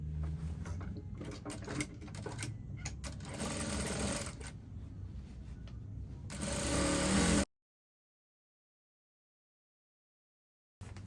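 A sewing machine runs in a steady mechanical whir as it stitches a dress seam with a half-inch allowance, rising near the end before cutting off into silence.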